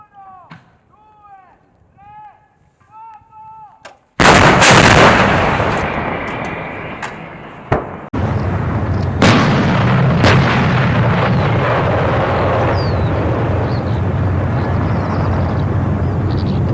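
FH-70 155mm towed howitzers fire base bleed artillery shells at a range in Germany: a sudden loud blast booms out after quiet bird-like chirps, its rumble decaying, then a second heavy report follows and sustained low rumbling carries on.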